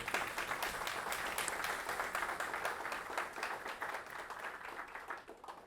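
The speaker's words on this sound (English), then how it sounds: "Please, let's give her a round of applause" An audience applauds after an academic homecoming lecture on Toni Morrison, steady, dense clapping filling the hall at moderate, somewhat distant volume throughout, with no talking.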